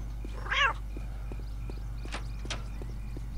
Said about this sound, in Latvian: Kaķi ielikuši cietumā.